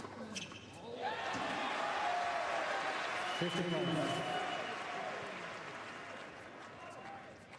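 A tennis crowd at the Australian Open final breaks into sustained, loud applause that swells early, holds steady, then slowly tapers off, with faint voices mixed into the clapping.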